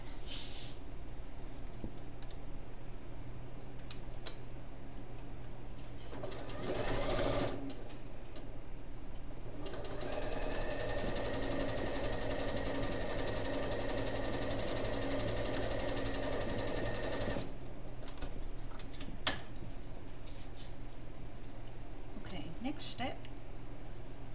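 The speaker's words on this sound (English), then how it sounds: "I'm going to sew down there" A sewing machine stitches a seam on a handmade doll, running steadily for several seconds at close range between stretches of quieter handling, with a person talking over parts of it.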